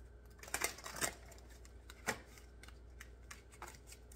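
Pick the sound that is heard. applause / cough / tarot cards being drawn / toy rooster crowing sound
tarot cards being drawn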